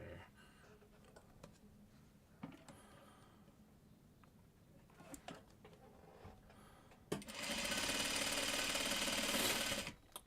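A sewing machine stitches a diamond log cabin quilt block on the bias. Light handling clicks and fabric rustles come first, then a loud, steady, close run of rapid stitching lasting about three seconds.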